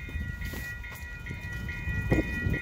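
An AMT commuter train on the Saint-Jérôme line, hauled by an APL45DP locomotive, rumbles past at moderate distance with rolling wheel noise and rhythmic clacks under a steady tonal whine.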